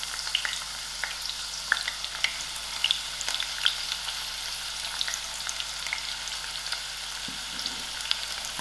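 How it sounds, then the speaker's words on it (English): Onions dropped into heated oil crackle and sizzle continuously, a dense, bright frying hiss with scattered pops and small spatters, close up and steady, with no one talking. "My oil is heated up, adding in my onions."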